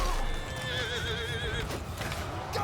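Horse in Mount & Blade II Bannerlord giving a loud, wavering whinny that lasts over a second, set against busy battle noise and hoof clatter.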